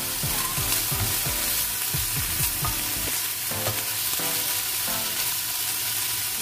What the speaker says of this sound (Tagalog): magigisa tayo ng bawang, sibuyas,